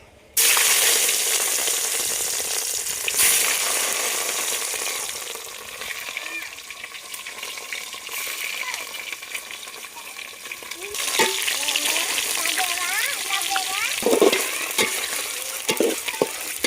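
Pieces of paneer fry in hot oil for paneer pulao and curry, cooked over a wood-fired stove, making a loud continuous sizzle with bursts of stirring and scraping that swell toward the end.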